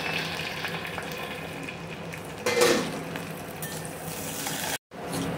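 Onion, green chili, curry leaves and garlic fry in a pan for a cabbage stir-fry, giving a steady, moderate sizzle with a brief, louder stirring scrape midway and no talk.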